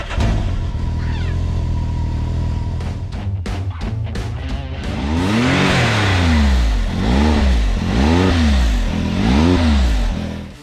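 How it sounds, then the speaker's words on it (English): A Can-Am X3 engine cranks and starts, then settles into a loud, close, steady idle with repeated rising and falling revs as it warms the oil. "Let's start the engine to warm up the oil."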